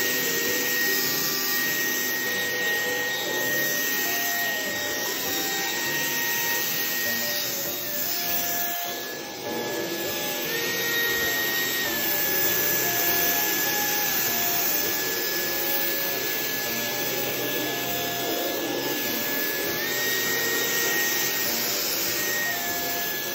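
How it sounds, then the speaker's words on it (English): Vacuum cleaner sucking up shed Shiba Inu dog hair, a steady loud close roar with a whining motor tone and rough rasping airflow that continues unbroken throughout. "Turns out there was even more hair plugging up the vacuum that I had to manually remove first."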